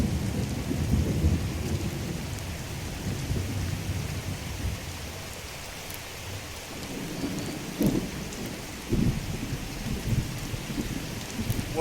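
Rain and rolling thunder in the video game Skyrim, a steady wash of rainfall with deep rumbles swelling and fading throughout, plus a couple of sharper cracks near the end, heard alone without voices.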